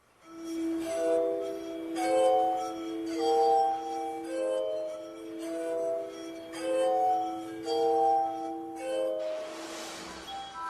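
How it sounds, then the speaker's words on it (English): Benjamin Franklin's glass harmonica, rotating glass bowls turned by a foot-powered spindle, sounding ethereal sustained bell-like tones in a slow melodic sequence, soft and clear with no talk. "In 1761, Franklin unveiled his glass harmonica."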